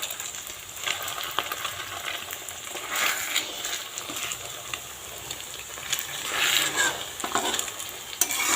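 An egg frying in oil in a pan alongside potatoes, with a steady close sizzle and crackle that swells in bursts, joined by occasional stirring scrapes and clinks and no voices.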